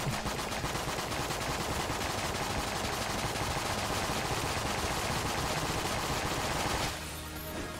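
The Patriot machine gun firing in the video game Enter the Gungeon: a dense, loud, continuous stream of rapid gunfire that cuts off near the end, leaving a brief quieter tail.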